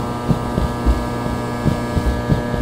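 A flickering light in a Fortnite backrooms map gives off a steady electrical hum with soft, irregular throbbing pulses, a low, continuous drone with no voices over it.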